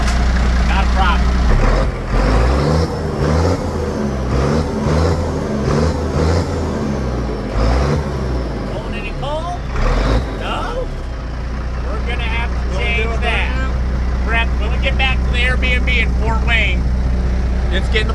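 A 1979 International cabover truck's engine runs steadily with a low, constant rumble throughout, heard close by under someone talking.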